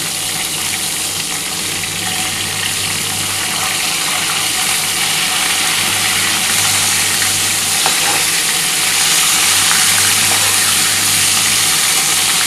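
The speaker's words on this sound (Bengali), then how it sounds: "তারপরে যে 3টে আছে সেটা আমি ভেজে নেব" Pieces of live katla fish fry in hot oil in a pan for a Bengali tel jhal, giving a steady, loud, close sizzle that runs unbroken throughout.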